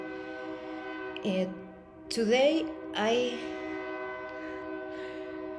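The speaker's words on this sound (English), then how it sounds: "there's a train outside" A train passes outside as a steady, sustained rumble with strong tonal horn-like harmonics running through the whole stretch, under a person's intermittent talk.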